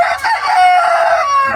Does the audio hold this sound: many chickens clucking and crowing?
yes